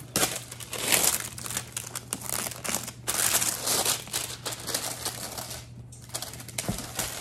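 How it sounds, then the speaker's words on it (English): Stiff plastic packaging on a Poopsie Rainbow Surprise doll crinkles and crackles in a steady stream of close, rapid snaps and rustles as it is pulled open, with a low hum underneath. "I'm going to open up this plastic part"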